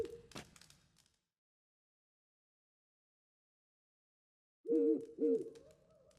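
A bird in the video game Witcher 3 gives two clear, close hooting calls after a long silence, preceded by a short faint sound at the start.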